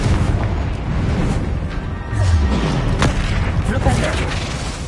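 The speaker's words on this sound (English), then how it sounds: "Confringo!" A Confringo fire spell detonates in a Harry Potter video game with a heavy, loud boom and rumbling blast, amid battle noise and spoken spell incantations.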